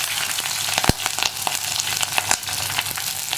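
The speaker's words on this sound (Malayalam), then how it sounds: "അതുപോലെ തന്നെ നമ്മൾ കട്ട് ചെയ്ത് വെച്ചിരിക്കുന്ന ഉള്ളിയും പച്ചമുളകും ചേർത്ത് കൊടുക്കാം." Sliced onion, green chillies and dried red chillies frying in oil for a bitter gourd pachadi, a continuous crackling sizzle with scattered sharper pops and a spoon knocking the pan, close and moderately loud, with no talk.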